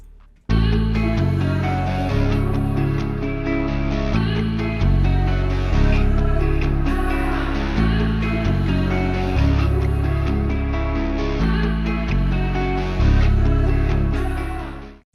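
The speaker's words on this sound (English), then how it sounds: "So all the guitars from this beat are going to be coming from the Electric Sunburst bank." Electric guitar melody from the Electric Sunburst VST bank, played at 132 BPM in a beat. Bright, sustained chords and plucked lines repeat in a steady loop, heard alone with no voices.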